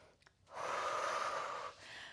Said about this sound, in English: breathing deeply in through the nose and out through the mouth